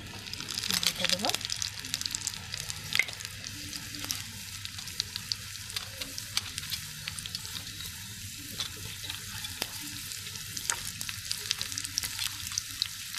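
Potatoes sizzle and fry in a pan with intermittent stirring scrapes, a steady hiss throughout, close and moderately loud, with a brief voice near the start.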